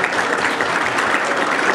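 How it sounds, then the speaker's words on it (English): Warm, continuous applause from an audience at a church Christmas program, many hands clapping steadily and evenly for nearly two seconds. "So we just want to just give them a round of applause as well."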